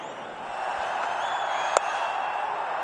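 Crowd at a cricket stadium during a Pakistan versus New Zealand tri-series ODI final, a broad sustained murmur of massed voices with one sharp clap or bang standing out near the end.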